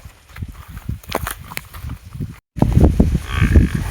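A buffalo munches grass and shuffles nearby, with crunchy chewing and thumping movements, broken by a short silent gap.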